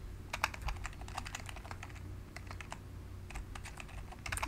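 Steady, fast typing on a computer keyboard while coding, with bursts of close key clatter broken by a short pause, heard alone over a low room hum.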